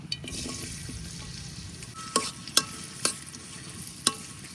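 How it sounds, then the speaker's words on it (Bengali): Chopped onion fries in oil in a wok, giving a quiet, steady sizzle broken by four or five sharp clicks as a utensil stirs against the pan. "দিয়ে দিতেছি পেঁয়াজ কুচি"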